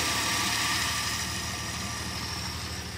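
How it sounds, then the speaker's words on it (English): A 1974 Dodge Dart engine, cold on a chilly morning, runs at a steady fast idle while warming up, giving a continuous even drone with a rumbling low end, heard close and alone. "Likes that fast idle"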